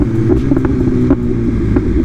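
A BMW S1000RR motorcycle cruising on a highway, a loud steady engine drone with constant wind rush and no break.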